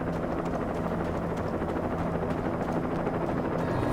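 Helicopter in the video game Alan Wake, a steady low rotor throb and engine drone holding close and loud with no voices over it.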